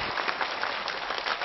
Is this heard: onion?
no